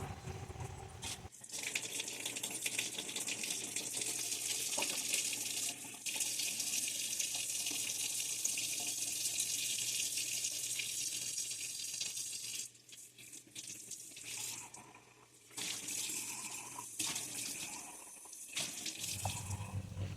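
Tap water runs steadily into a kitchen sink while dishes are washed, a continuous close splashing rush with a few brief breaks and shifts as items move under the stream.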